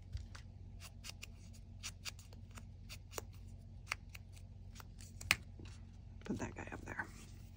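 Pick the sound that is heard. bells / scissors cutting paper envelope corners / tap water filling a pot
scissors cutting paper envelope corners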